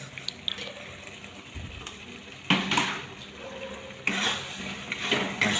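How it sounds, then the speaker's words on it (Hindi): Prawn and drumstick curry with cashews and garam masala is stirred in a pan: a soft simmering hiss, broken by two bursts of wet scraping and sloshing, close and without talk. "अच्छा से मिक्स कर देते हैं।"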